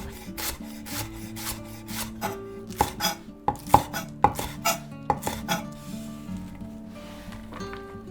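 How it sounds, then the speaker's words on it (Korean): A knife taps and slices diagonally through green onion on a cutting board, a run of crisp chops at a quick, uneven rhythm, close and clear with no speech. "밀푀유 나베에 들어갈 대파를 어슷 썰어주세요."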